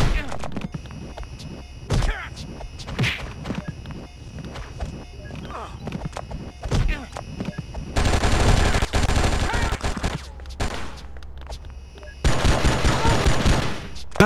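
Enemy gunfire in the video game Oni: scattered shots and thumps, then two long bursts of rapid automatic fire, with footsteps and game sounds between them.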